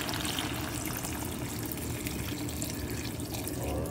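Water is poured into pinakbet, an Ilocano vegetable dish with eggplant and alamang shrimp paste, as it cooks in a pot. The pour makes a steady, close trickle for a few seconds, with no talking.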